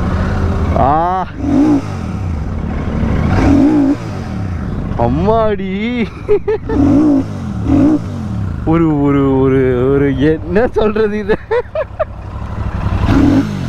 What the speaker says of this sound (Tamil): இந்த வண்டியோட சவுண்டு கேளுங்களேன்.